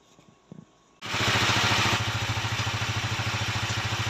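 A restored motorcycle, a Honda TMX 155, kicks to life after a brief quiet lead-in with a couple of faint clicks, then settles into a loud, steady, close-up idle with a rapid chugging pulse and no talk over it.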